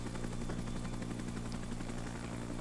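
Helicopter in the Arma 3 video game, set in a Vietnam-era scenario, giving a steady loud rotor and engine drone that fills the whole stretch without letup.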